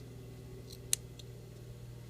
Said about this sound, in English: Then you want to trim your bottom with your real scissors, not these.